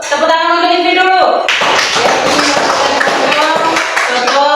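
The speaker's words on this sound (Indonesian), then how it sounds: "Tepuk tangan untuk Ivi dulu." Students in an Indonesian classroom clap together, a brisk burst of applause with voices mixed in before and after.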